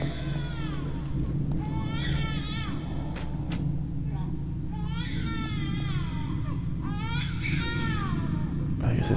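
Recurring wails of a crying baby in the Silent Hill Homecoming video game, set in an eerie hospital, rising and falling in several separate bursts over a steady low ambient drone.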